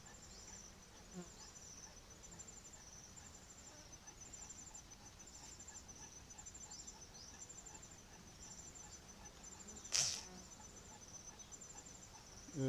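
Bees buzzing around a hive being smoked, a faint steady insect hum with individual bees passing near, and a brief louder knock partway through.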